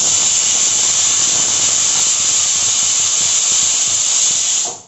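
A pressure cooker whistles loudly while cooking rice on a gas flame, a steady, intense, high steam hiss held for nearly five seconds before it cuts off.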